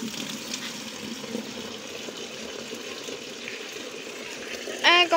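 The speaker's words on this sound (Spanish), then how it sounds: "cae el agua al bote de Arlin" Steady water pours and splashes into a bucket while clothes are washed by hand, a continuous mid-level gushing stream, with a brief voice breaking in at the end.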